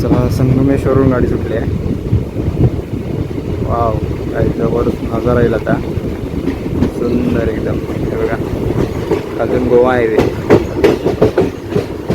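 The Mangalore train runs along the Sangameshwar to Dombivli route with a loud, continuous rumble and rhythmic clickety-clack of wheels, heard from on board, with voices talking over it.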